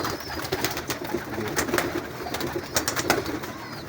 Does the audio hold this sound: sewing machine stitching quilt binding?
no